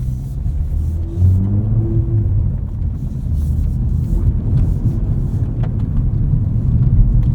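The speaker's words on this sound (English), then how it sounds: "This V6 is so responsive. It loves to rev, and it pulls so hard." A 2024 Cadillac CT4-V Blackwing with a V6 and a six-speed manual revs up close and loud, its engine rising through a throttle blip before settling into a deep, steady rumble.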